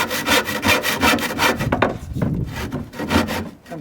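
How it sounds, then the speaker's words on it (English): A hand finish saw cuts through a wooden pull-up bar from a play structure with rapid, rhythmic back-and-forth rasping strokes, close and loud, pausing briefly before the strokes resume. "I got my finish saw. This is wood, so I want to use a wood saw."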